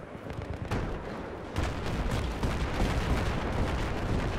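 Artillery fire rumbles through a Battlefield 3 multiplayer match, a heavy sustained barrage of booming blasts that grows louder and denser partway through, filling the scene with low thunderous noise and no speech.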